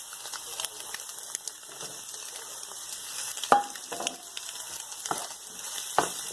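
Fried chicken pieces are tossed into chicken fried rice in a hot pan, giving a soft continuous sizzle with scraping stirs and a few sharper clinks of the spatula against the pan.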